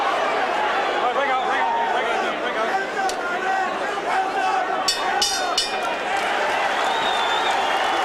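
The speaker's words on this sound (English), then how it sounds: "the crowd picks up the chant of Duran's name" Arena crowd at a Roberto Duran versus Iran Barkley boxing match, a dense roar of voices chanting and cheering between rounds, with a commentator talking over it.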